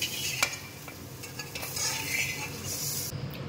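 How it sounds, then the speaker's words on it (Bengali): Flat beans fry in a pan with a soft sizzle, while a metal spatula scrapes and clinks against the pan a few times up close. "এইভাবে আমি সব কটি ভেজে নেব"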